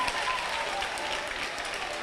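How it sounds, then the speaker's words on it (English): Students applaud at a government town hall, a steady, dense wash of clapping that holds at an even level from start to finish. "he's getting applause from the students here"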